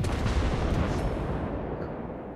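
Heavy naval main-battery salvos boom in World of Warships Blitz, a dense, loud, rumbling blast that fills the moment and slowly decays without talk.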